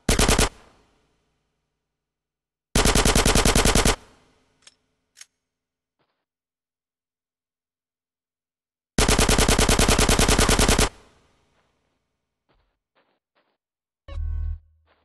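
Automatic gunfire rattles in GTA San Andreas, coming in loud, rapid bursts of one to two seconds separated by silence, with a few isolated clicks and single shots between bursts.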